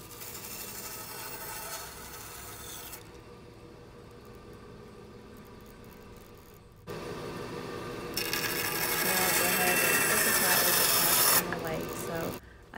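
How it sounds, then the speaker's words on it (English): Drum sander grinding a wooden airplane propeller, a steady broadband rasping roar that eases for a few seconds, then returns harsher and brighter as the wood is pressed harder, close and continuous. "this is my drum sander, so I'm just sanding it"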